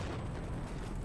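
A heavy explosion in the shooter game Insurgency: Sandstorm, a dense, sustained rumbling roar that fills the whole moment with low, loud boom and debris-like noise, no voices.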